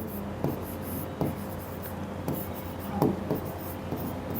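Chalk or marker writing on a board during a physics lesson on pulleys, a few short scratchy strokes in bursts over a soft room hum, moderately close with no talk.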